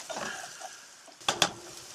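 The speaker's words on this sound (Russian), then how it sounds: "Помешиваю на умеренном огне. Обжариваю это дело." Onion sizzling in a hot pan over moderate heat, then a few sharp scrapes and clinks as a utensil stirs against the metal.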